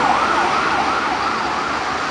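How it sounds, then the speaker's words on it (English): A Montreal fire chief's Ford Explorer siren wails nearby while responding, its pitch sweeping up and down in a steady cycle over road noise, loud and continuous without speech. "I heard the siren."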